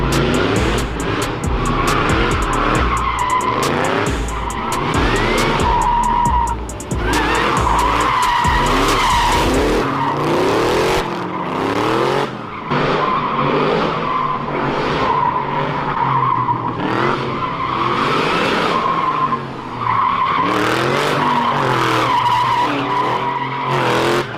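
A turbocharged Chevy Caprice four-door doing a burnout, tires squealing continuously and loudly under a roaring, revving engine for the whole stretch, with steady high-pitched screeching and no talk.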